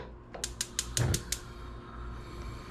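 A gas stove knob is turned to heat a pot of coconut milk, giving a quick run of about eight sharp igniter clicks with a soft whoosh in the middle, close and alone.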